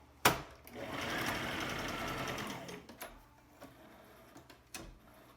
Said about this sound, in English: And run that through your sewing machine.